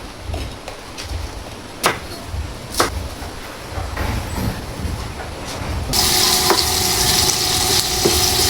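Chicken sautéing in a pan for chopsuey gives a steady sizzle with scraping stirs and occasional sharp clinks, and the frying grows louder and brighter toward the end.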